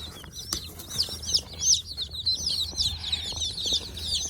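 Dense, rapid high-pitched peeping from a group of ducklings, chirps overlapping continuously over a low background hum, fairly close.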